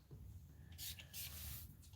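Two quick, close hissing bursts of a spray bottle onto a dog's coat, the second slightly longer, against a quiet background.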